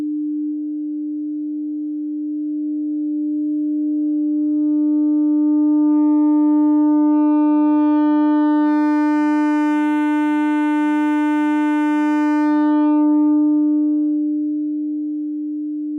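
A steady sine-wave test tone sounds alone while saturation is applied, so bright upper harmonics swell in, buzz more richly through the middle, then fade back to the plain pure tone.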